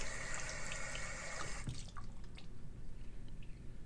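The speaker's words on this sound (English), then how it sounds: "we're going to actually now rinse this under the faucet" Water runs from a faucet into a sink as a bronze watch is rinsed under it, a steady splashing hiss with a brief clunk partway through and the flow changing slightly afterward.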